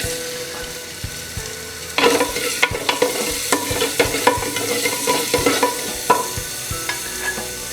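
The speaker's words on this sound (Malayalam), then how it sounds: "ഇനി ഇതിലേക്ക് സവാള ഇട്ട് കൊടുക്കാം." Onions sizzle steadily in a hot pan, with frequent scraping and stirring strokes from a spoon becoming louder and busier partway through, close and clear with no talking.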